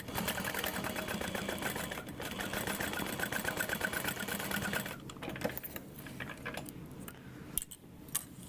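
A sewing machine runs steadily, stitching a half-inch seam on a large tote bag with a backstitch at the start: a continuous fast mechanical whir for about five seconds, then stopping and restarting in softer, uneven bursts, close and alone.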